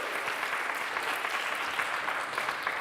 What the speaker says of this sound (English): should we just have a bit of a round of applause for everybody who's actually finally made it here?